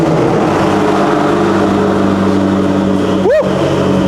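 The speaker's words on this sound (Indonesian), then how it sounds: "Ini dia suara cold start dari McLaren" A McLaren 650S with a turbocharged engine cold starts in a garage, giving a loud, steady idle drone. Near the end it blips once into a brief rising rev that quickly drops back.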